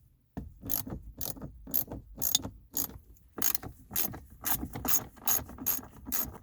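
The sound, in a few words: ratchet removing bolts on a Nissan R33 shifter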